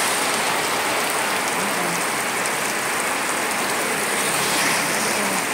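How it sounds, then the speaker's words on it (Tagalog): Heavy rain pours in a steady, dense hiss alongside strong wind, loud and unbroken throughout with no pauses. "Grabing kusuking ulan guys."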